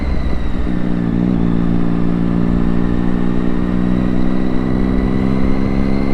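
A Triumph Daytona 675 motorcycle engine runs steadily under riding, a loud, continuous mid-pitched drone with rising and falling revs and no one speaking.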